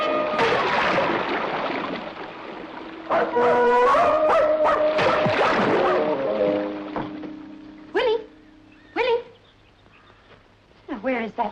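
A dog barks several times in an old retro film scene, with sharp, loud barks spaced apart near the end, following earlier voices and other sounds.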